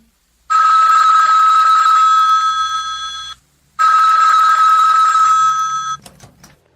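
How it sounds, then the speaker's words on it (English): A telephone bell rings in two long loud electric trills separated by a short gap, followed by a faint clatter as the call is answered. "Ringing the police department."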